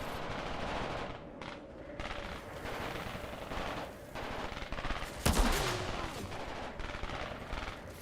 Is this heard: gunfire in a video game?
yes